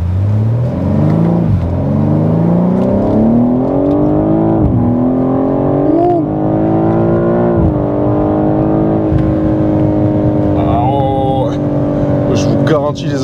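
A BMW M3 G80 saloon with a six-cylinder engine accelerates hard, its loud, close engine note rising steadily through several gears with short dips at each shift, heard from inside the car.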